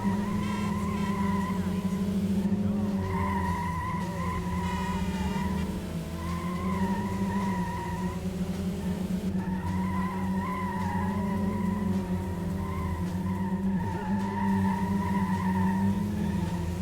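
A car in the Dreamcast racing game Metropolis Street Racer slides under heavy handbrake, its tires squealing in long wavering tones over a constant loud engine drone that runs without a break.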